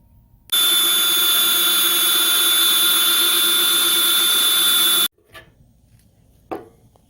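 A power drill runs a step bit through an ammo can to fit a lock, a loud steady high-pitched whine for about four and a half seconds that cuts off abruptly, followed by a couple of faint knocks.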